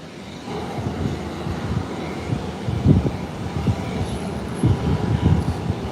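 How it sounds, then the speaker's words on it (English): An American airliner in from Charlotte rolls down the runway after a late landing midway along the strip, a steady broadband rumble of engines and wheels with uneven surges, heard from a distance and without talk. "It landed in the middle of the runway and not at the beginning."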